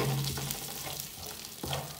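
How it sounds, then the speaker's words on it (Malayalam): Whole spices, cinnamon, cloves, cardamom and aniseed, fry in very hot oil for an Arabic biriyani, giving a soft continuous sizzle with a brief stir-like rustle near the start and again toward the end. "ഈ ഒരു ഓയിലിനകത്തേക്ക് തന്നെ നമുക്ക് ഡ്രൈ മസാലാസ് ചേർത്ത് കൊടുക്കാം"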